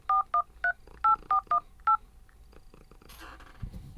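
A smartphone dials a number for a test call, seven short two-tone keypad beeps in an uneven rhythm, close and clear, followed by a faint rustle and a low thump.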